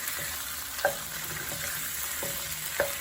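Ground beef frying with garlic in a hot pan, a steady close sizzle broken by several soft clicks and scrapes of a utensil breaking up the meat, with no talk.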